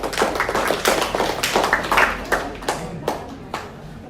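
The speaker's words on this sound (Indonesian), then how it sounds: "Tepuk tangan untuk kelompok Anita." A small group claps for a student team after their presentation. The individual hand claps are close and distinct, starting dense and thinning out toward the end.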